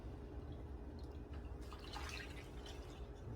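Red wine poured from a cup over oxtails, a soft continuous trickle and splash at low level throughout, no talking.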